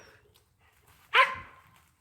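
Dog on a chain outdoors giving a single short, fairly loud bark, surrounded by near silence.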